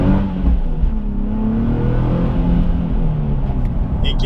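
A Nissan 370Z accelerating hard through the gears, its engine note loud and sustained with rising tones, heard close from inside the car with no pauses.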